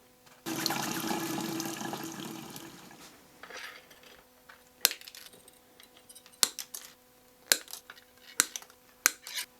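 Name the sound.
washing nail polish off hands under running water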